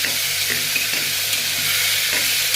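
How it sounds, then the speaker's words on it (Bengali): Spices and tomato sauté in a hot pan for a meat curry, a loud continuous hissing sizzle up close with faint stirring scrapes and no talk. "মশলা দিয়ে একটু কষিয়ে নিচ্ছি"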